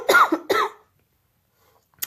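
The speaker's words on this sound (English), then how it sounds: "I'm sorry, I'm coughing." Two sharp, close coughs from a person in quick succession, followed by near silence and a faint trailing breath sound.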